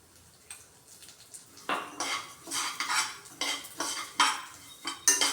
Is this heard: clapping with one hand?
no